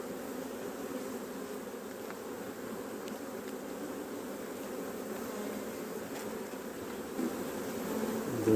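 Honeybees hum at an open hive during an inspection, a steady, close, moderately loud buzz that holds throughout and swells slightly near the end.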